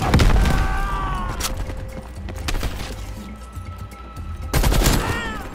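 Gunfire in a Call of Duty: Black Ops Cold War campaign mission, loud bursts of shots at the start and again near the end, with quieter scattered firing and battle noise between them.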